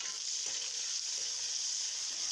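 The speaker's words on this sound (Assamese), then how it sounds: "তাতে দি দিছোঁ পিঁয়াজখিনি মই কেঁচা গোন্ধ যোৱালৈকে ভাজি থাকিম।" Sliced onions fry in oil with five-spice seeds, giving a steady, close, even sizzle with faint stirring scrapes and no talk.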